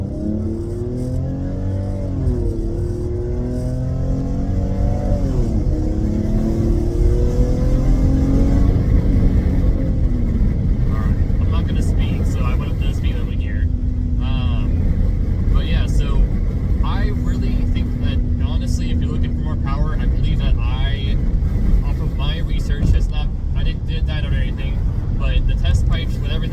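An Infiniti G37 fitted with test pipes revs in sport mode, engine climbing and falling through several loud pulls and holding a steady drone, with someone talking over it.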